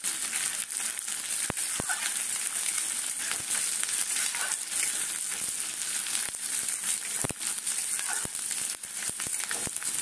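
Onion, garlic and ginger fry in a pan with a dense, continuous sizzle and crackle. Scattered sharp ticks and faint stirring scrapes sit close up, and no one speaks.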